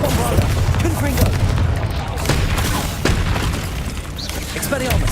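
Bombarda and Confringo blasting spells from Hogwarts Legacy, a steady run of loud booming impacts and crackling bursts layered over continuous battle noise, with a voice calling out over them.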